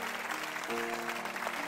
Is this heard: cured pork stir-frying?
no